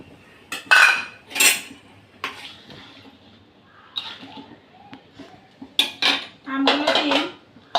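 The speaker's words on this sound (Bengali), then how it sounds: "আমি এবার আমগুলো দিয়ে দেবো।" Mango pieces go into a pot of khichuri on a gas stove amid a run of close metallic clatters and scrapes from a spoon and the pot, with soft plops between them.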